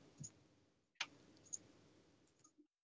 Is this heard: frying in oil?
no